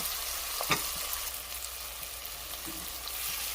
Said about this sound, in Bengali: এবার কুচানো পেঁয়াজ আর চিংড়ি মাছ একটু সময় নিয়ে ভাজবো